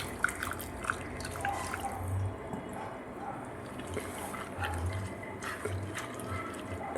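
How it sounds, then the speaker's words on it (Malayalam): Water is poured into a spice mix of coriander, green chilli and salt and stirred, a faint, continuous trickle with small drips and soft sloshing, nearby but quiet. "ഇനി വെള്ളം ഒഴിച്ച് കലക്കിയെടുക്കുക"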